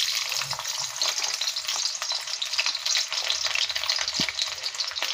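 Garlic sizzles and fries in hot oil in a kadai over a gas flame, a steady close crackling hiss with no talk.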